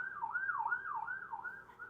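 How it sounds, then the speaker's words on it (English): An emergency siren wails outside in a steady rising-and-falling cycle, about four sweeps, moderately distant and faint, with no voices. "All the sirens. I have no control over the sirens."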